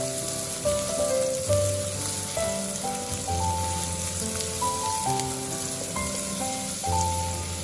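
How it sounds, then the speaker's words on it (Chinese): Minced garlic and ginger sizzle steadily in hot cooking oil in a wok, a continuous close hiss with background music playing underneath. "油热之后，先把蒜末和姜末倒下去炒香"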